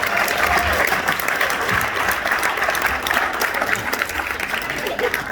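A crowd claps and cheers steadily throughout, a dense wash of applause with some voices mixed in.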